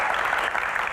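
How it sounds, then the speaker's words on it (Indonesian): A studio audience claps for the panelists on an Indonesian comedy Q&A stage, a dense, steady wash of applause lasting the whole moment, loud and close, with no voices over it. "tepuk tangan dong buat panelis kita yang luar biasa"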